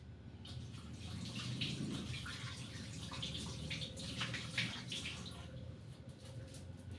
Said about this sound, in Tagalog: Maghugas po muna tayo ng kamay para malinis ang paglalamas.